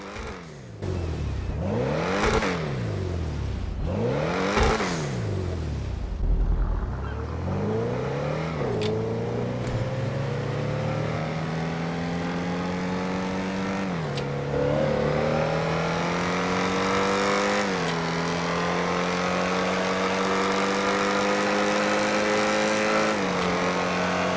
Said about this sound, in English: And it actually burbles when you are driving really fast.